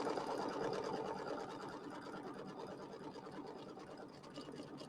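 An embroidery machine rapidly stitches a tack-down line through backing fabric in a quilt block, a quiet, continuous mechanical whir with a fast needle rhythm. It eases slightly softer midway and keeps going alone.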